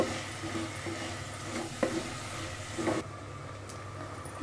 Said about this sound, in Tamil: வெங்காயம் வந்து நல்லா கிண்டி விட்டுட்டே இருக்கலாம்